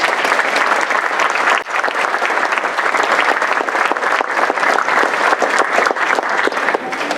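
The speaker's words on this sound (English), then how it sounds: "Let's give the mayor another round of applause." Audience at a regular city council meeting gives the mayor a sustained round of loud, dense clapping that carries on steadily throughout.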